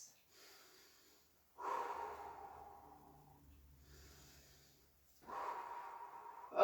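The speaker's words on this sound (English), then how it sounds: "Deep breaths." Slow, deep breaths drawn in and pushed out through the nose during a yoga balance pose on tiptoes, soft and close, two long inhale-exhale cycles with quiet pauses between.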